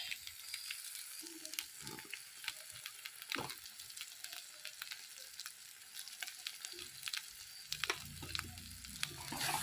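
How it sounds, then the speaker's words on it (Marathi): Masala spiced with turmeric and coriander powder frying in a pan, a soft continuous sizzle with occasional stirring scrapes and clinks, fairly quiet and steady throughout, no talking. "हळद आणि थोड़े ना धन पावडर तर आपण मस्त मसाला परतायचं चालू"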